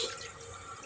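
Water is poured into a cooking pot in one brief, steady splashing stream, close by, with no voices.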